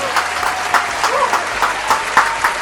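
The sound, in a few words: live podcast audience applause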